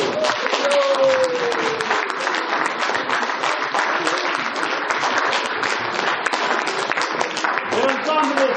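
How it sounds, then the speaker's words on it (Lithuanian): Loud, dense applause from a large audience at an event honouring Tomas Vaisieta with a folk ensemble, sustained clapping close by and at full strength from start to finish, with a brief sung or spoken tone under it near the start. "Audringi plojimai."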